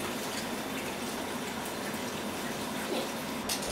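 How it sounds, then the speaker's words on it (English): Cold water pours over curdled milk in a fine sieve in a kitchen, giving a steady, close, full-bodied rush of splashing water that runs unbroken throughout, with no talking. "Add some cold water on top to cool it down."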